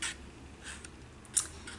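Scissors snip through paper or cardstock while cutting out a stamping box, a few soft cuts ending in one sharper snip, close and quiet with no talk.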